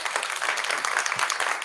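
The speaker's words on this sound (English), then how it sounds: "Can we have a second clap, please?" Studio or comedy-show audience breaking into a second round of clapping, a dense, steady patter of many hands held at an even level for under two seconds with no voice over it.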